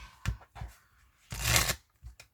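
Oracle cards are shuffled and handled up close in a few short papery bursts, with one longer riffle in the middle and brief pauses between.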